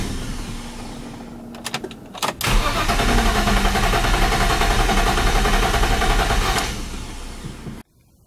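A BMW E46 330i with a swapped M50 intake cranks, then catches and runs roughly for several seconds at a loud, close, even roar before cutting off abruptly.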